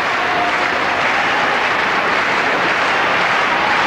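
A tennis crowd at a 2003 Hamburg match applauds, a dense, steady wash of clapping that holds at full strength for the whole stretch with no voices over it.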